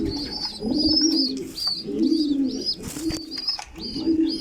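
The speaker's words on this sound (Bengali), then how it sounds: "এখানে আর একটা পেয়ার কবুতর আছে আপনারা দেখতে পারতেছেন" A pair of light-coloured racer pigeons coos up close, giving repeated soft, throaty coos in a steady rhythm of about one per second with faint rustling between calls.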